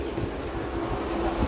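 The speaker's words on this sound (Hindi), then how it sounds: "तो 2 घंटे की देरी के साथ अपनी train Khordha road junction railway station आ चुकी है। हमारी ट्रेन प्लेटफॉर्म नंबर 3 पर आई है" A passenger train sits at platform 3 of Khordha Road Junction railway station, giving a steady, loud low rumble of engine and carriage hum with faint distant clatter and no speech.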